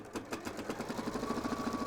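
A sewing machine stitches along the top edge of a gents' apron, a steady close rhythmic whirr of needle strokes running continuously with no talk.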